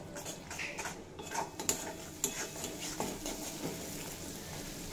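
Spices with cumin and chilli powder are stirred and sautéed in a pan, faint scraping and clinking of a utensil against the metal with a few sharper knocks over a soft, low sizzle.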